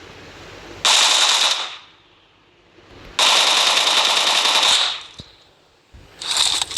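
Machine gun fire in the mobile shooter BGMI, two long loud sustained bursts of rapid shots separated by a pause, with a third burst starting at the end.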